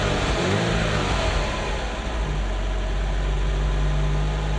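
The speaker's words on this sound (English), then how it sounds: "Lovely sound of a Ferrari singing." A Ferrari engine idles after a cam belt change, a steady, continuous mechanical hum with a low throbbing tone, close and loud, with a brief rev near the start and no talk.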